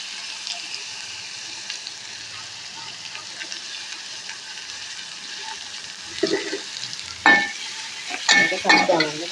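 Boiled cluster beans (gokarakaya) are stirred and fried in a pan for an egg curry: a constant oily sizzle, with louder scraping stirs that grow more frequent toward the end.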